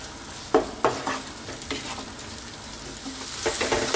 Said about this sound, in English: Let's just fry these around and get these going.